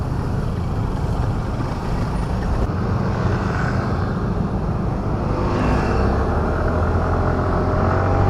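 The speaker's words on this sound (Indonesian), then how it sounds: "Sweetie, the old Vespa." An old Vespa motor scooter rides along a narrow alley in Jakarta, its engine droning steadily and loudly from start to finish with broadband road and traffic rumble mixed in.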